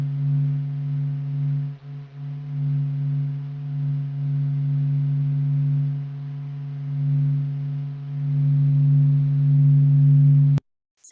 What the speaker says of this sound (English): So I would like to start us off today with listening to the sound of our sun.